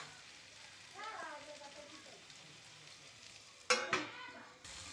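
Okra frying in a pan, a faint steady sizzle under a brief voice, then a sudden burst of clattering stirring near the end.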